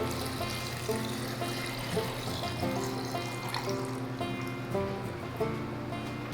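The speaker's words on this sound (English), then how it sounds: "now we're gonna top off each jar with clean water that's come out of our Berkey" Filtered water from a Berkey filter is poured steadily into jars holding apple scraps, a continuous splashing pour with a few small clinks and shifts.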